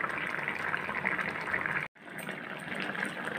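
Tamarind drumstick curry (puli kulambu) at a rolling boil in a pot, a soft continuous bubbling and hissing that drops out for a split second midway and then carries on, faint and close, with no talk.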